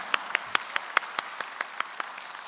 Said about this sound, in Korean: 우리 옆에 계신 우리 믿음의 부모님들 위해서도 한번 축복의 박수 보내셨으면 좋겠습니다.